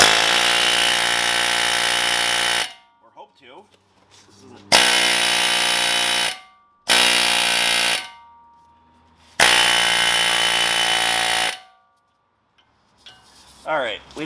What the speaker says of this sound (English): I think we're gonna have to go with the air hammer.